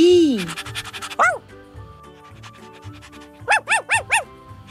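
Several short, sharp dog yelps in a quick burst of four near the end, after a bark-like sound early on, over a quiet background.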